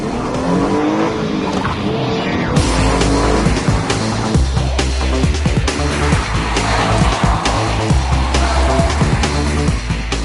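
Hyundai Genesis Coupe with manual transmission accelerates hard on a track with stability control off, engine roaring up through the revs over repeated loud tire squeals and skidding, close and continuous.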